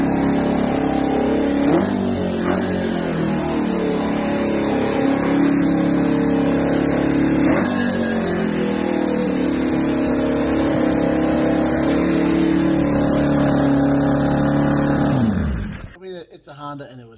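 A free Honda motorcycle engine runs loud and steady, its pitch climbing and falling through a couple of revs before cutting off abruptly near the end.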